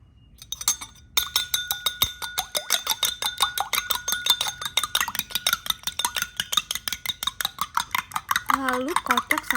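Egg beaten with fish sauce and oyster sauce in a bowl for a Thai oyster omelette, a fast, steady run of clinking whisk strokes against the bowl, close and continuous for several seconds with no talking.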